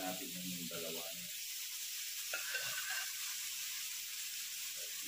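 Pork cheek fries in hot oil in a pan, a steady close hiss and sizzle throughout, with a voice speaking briefly at the start and a faint clink partway through.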